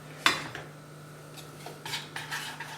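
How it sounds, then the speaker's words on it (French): Utensil clinking and scraping in a pan while stirring ingredients for chicken with Guinness, a sharp metallic tap first followed by softer intermittent scrapes, close up with no talk. "On mélange tout ça et on va le faire chauffer"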